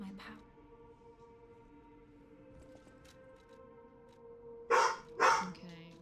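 A pet dog in a house barks twice in quick succession, loud and close, after several seconds of quiet with a faint steady hum behind it.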